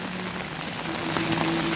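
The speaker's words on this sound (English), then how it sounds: "This rain is crazy." Heavy rain pours steadily on surfaces outdoors in Ubud, a dense, even hiss of drops close by with no voices.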